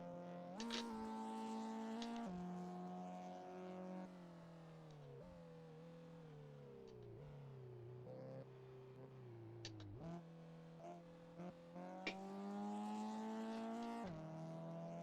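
A Renault Clio Phase 1 engine in Assetto Corsa revs hard and repeatedly while drifting, the pitch climbing and dropping with each shift and throttle lift, with brief tire squeals, close and continuous.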